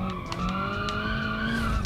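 Tires squeal steadily as a car slides sideways through a corner in the BeamNG driving game, a sustained screech over engine drone for the whole stretch, with no voices.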